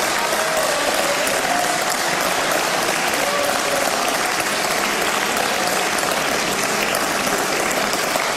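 Sustained, dense applause fills the Greek parliament chamber, steady and loud throughout without a break.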